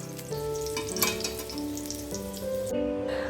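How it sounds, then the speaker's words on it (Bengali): Boiled potatoes seasoned with turmeric sizzle steadily in hot oil in a pan as they brown, a loud continuous crackling fry with occasional stirring scrapes. "সেদ্ধ করা আলুগুলোকে ভালো করে আমরা বাদামি করে ভেজে নেব।"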